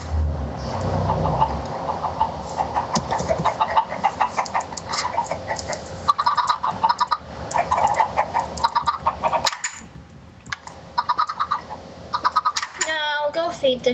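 Minecraft chickens clucking in a co-op game session, repeated short clucks and bird-like calls mixed with game noises, with people talking over much of it.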